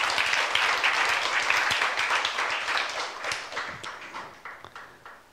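A church youth service congregation claps together in a loud burst of applause that gradually thins and fades toward the end.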